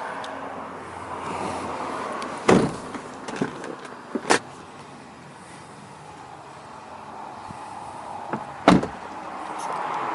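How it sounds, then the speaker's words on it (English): Third-row seats folding down in a 2005 Acura MDX AWD, a few sharp thuds and latch clunks spaced across a quiet cabin with light background hiss. "if you don't need the third row, you can fold them flat for more cargo in the back"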